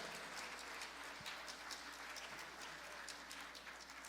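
An audience at a church Christmas play claps in a steady, continuous patter of applause, fairly distant and even throughout, with no clear voices above it.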